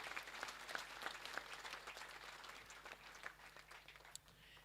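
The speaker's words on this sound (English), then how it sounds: "Please give them a round of applause." Applause from the audience at a girls' college speech and prize giving day, a steady patter of many hands clapping at a moderate distance, easing slightly toward the end.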